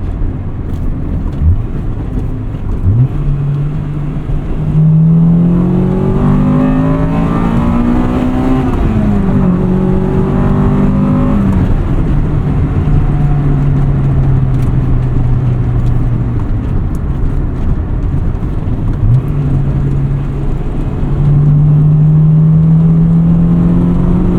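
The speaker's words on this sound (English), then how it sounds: "It's so cool how aggressive that VTEC changeover can be." A 1998 Acura Integra Type R engine pulls hard through repeated rev climbs from inside the cabin, pitch rising and dropping across gear changes with the VTEC changeover hardening the tone, loud and sustained.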